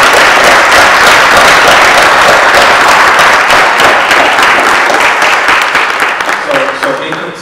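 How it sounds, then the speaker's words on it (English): A gala crowd bursts into loud, sustained applause, many hands clapping together close by, slowly tapering off at the end with some faint voices. "Let's give her a round of applause."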